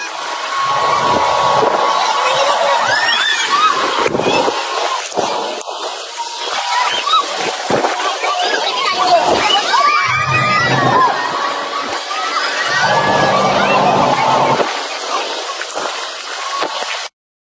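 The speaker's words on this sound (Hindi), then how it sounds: "समंदर की लहरें जोश मार रही हों तो उसमें शिप्स कैसे चलती हैं।" Rough sea waves slosh and splash steadily around a sailing ship, a loud, continuous broadband roar with surging water throughout.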